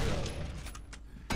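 Gunfire in the horror video game Condemned: Criminal Origins: a loud burst of dense, rapid shots at the start and again at the end, with a rattling sustained crackle between.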